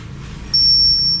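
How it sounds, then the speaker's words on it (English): REM pod paranormal detector sounding its alarm in a crypt, a sudden loud, steady high-pitched electronic tone starting halfway through and holding to the end over quiet room noise. "to set off the REM pod alarm"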